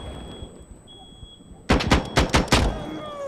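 Heavy M82 .50 caliber rifle shots in Insurgency Sandstorm gameplay, a sudden string of about five loud, sharp blasts in quick succession after a quiet stretch, each with a short echoing tail.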